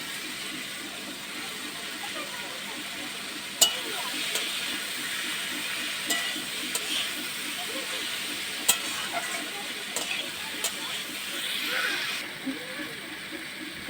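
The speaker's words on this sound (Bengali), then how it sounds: "এবার আমি এখানে সজনে ডাটাগুলো দিয়ে দেবো" Drumstick (moringa) pieces go into tomatoes cooking in a pan, producing a steady close sizzle and hiss with occasional clicks and taps of stirring throughout.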